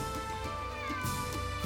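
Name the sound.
cat meowing in the video game Suikoden V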